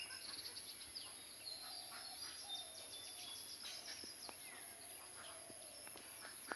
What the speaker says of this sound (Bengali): চারিদিকে শুধু পাখিদের কিচিরমিচির শব্দ